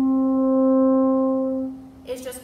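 Sustained French horn note on G, one partial above middle C, played open on an F horn; a clear steady tone lasting under two seconds, followed by a brief burst of speech.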